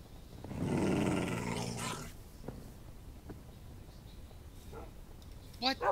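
In the video game Minecraft, tamed wolves give a loud, rough growl lasting a couple of seconds after a pig is hit, followed by quieter scattered sounds and brief yips near the end.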